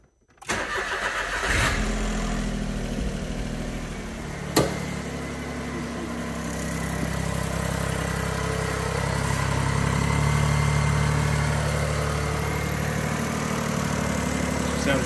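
A Smart car, just refilled with manual transmission fluid, cranks briefly and fires up, then settles into a steady, close idle with a slight swell in revs partway through; no one speaks.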